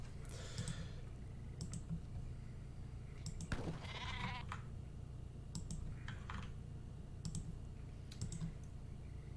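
Goats bleat in a video game, with a few faint, brief calls spread across quiet background ambience. Sharp clicking sounds recur throughout.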